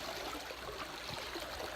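Clear mountain water runs along a trail in a soft, constant wash of flowing sound, fairly faint and even throughout.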